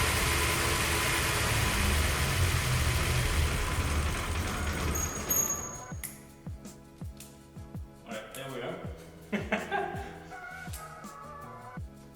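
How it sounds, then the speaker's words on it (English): A VR6 engine on a budget standalone ECU idles and runs leaner, starting under a loud broadband rush before settling into a rough, pulsing idle heard close, with a voice talking over it. "So as the key is here, it will run leaner and leaner until it shuts off."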